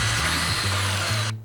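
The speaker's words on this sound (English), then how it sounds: "Now you can go from drilling holes to driving screws in a snap." A Black & Decker Firestorm power drill runs loudly and steadily with shifting motor pitch, then cuts off abruptly near the end, in a short close burst with no talk.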